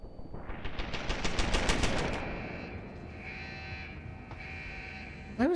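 An automated turret in Deus Ex: Human Revolution fires a rapid burst of gunfire for about two seconds, then a lingering electronic tone and mechanical whir follow.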